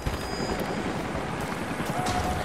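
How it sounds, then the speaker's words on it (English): Helicopter rotor drone in a video game, a steady dense wash of noise that holds at a constant loudness through the whole stretch, with no voices over it. "Jacob, helicopters are headed your way"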